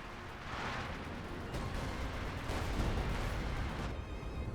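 Sustained gunfire and artillery rumble from a Company of Heroes 2 battle at Malmedy, with Panther tanks and AT guns engaged, a dense continuous wash of shots and blasts at steady loudness throughout.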